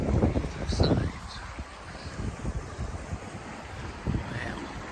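Floodwater rushes around both sides of two overwhelmed drainage pipes, a loud outdoor roar mixed with gusty wind buffeting the microphone.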